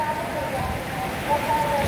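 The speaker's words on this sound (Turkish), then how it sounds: "Muazzam bir sel akışı var." Heavy flood water rushing after torrential rain on the Giresun coast in Turkey, a dense continuous wash of noise that stays steady and fairly close.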